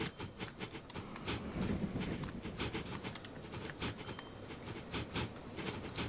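Trains whizzing in and out of a busy station in Transport Fever 2, a continuous rolling rattle and clatter of wheels with hissing, moderately quiet and without talk.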